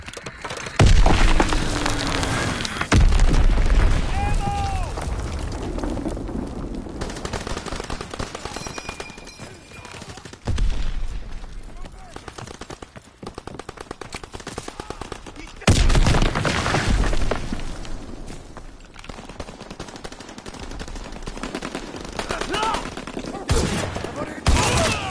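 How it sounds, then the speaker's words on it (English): Azon bomb strike explosions and gunfire in Call of Duty, with heavy booming blasts and rattling bursts of shots in waves, loud and close, alongside other game sounds. "Azon bomb mission underway."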